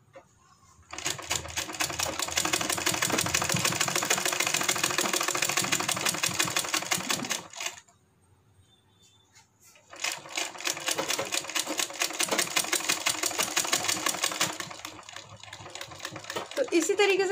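A sewing machine stitches a kurti hem in two long rapid runs of close, loud needle clatter, separated by a short quiet pause, with no talking.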